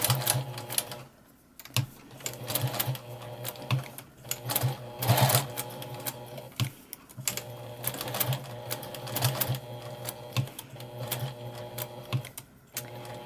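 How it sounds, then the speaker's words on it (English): A sewing machine stitches slowly around a felt heart, its close, steady mechanical chatter running in bursts with brief pauses between runs. "when I'm almost done sewing around my heart"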